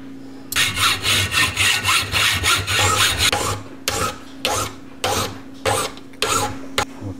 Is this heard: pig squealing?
no